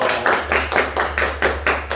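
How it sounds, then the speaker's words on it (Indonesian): Several people clap together in steady bursts, about eight rhythmic rounds of applause in two seconds, close and fairly loud. "Betul, tepuk tangan untuk Pak Bonbon."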